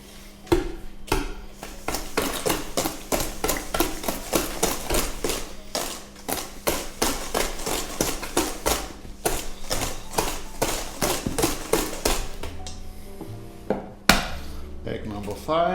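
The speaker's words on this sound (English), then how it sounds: "And just keep on whisking." Whisk beating eggs into banana bread batter in a bowl, a fast, steady run of close clicking strokes against the bowl that stops near the end, followed by a few clatters.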